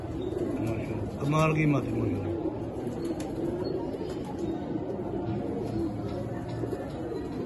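Pigeon cooing, a short rolling coo near the start, with someone talking in Urdu over steady background noise among kept pigeons.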